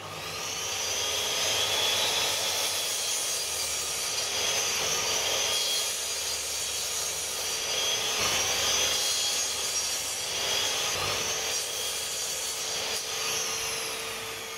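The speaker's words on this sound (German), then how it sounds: "Ich säge mir jetzt hier schnell die Leistchen 2 in der Länge zu, 2 in der entsprechenden Breite zu." Power saw cutting small wooden strips to length, a continuous high whining buzz that holds steady with slight swells as the blade passes through the wood, close and loud with no talk.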